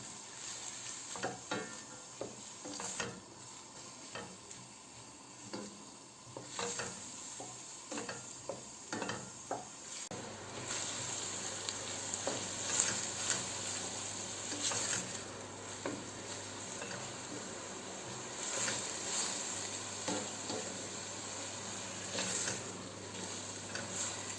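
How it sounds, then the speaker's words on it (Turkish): Onions sautéing in a pan for a Turkish pazı kavurması (chard dish), a steady close sizzle with frequent stirring scrapes and clinks, growing louder and denser halfway through, with no talking. "Evet soğanlarımız kavrulmaya devam ediyor."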